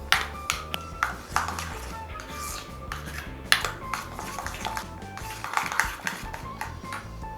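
A spoon scrapes and clinks against a metal pot while a spice paste of coriander powder, dried chili powder, salt and sugar is mixed for a chicken kofta curry, giving bright repeated pings over a steady background.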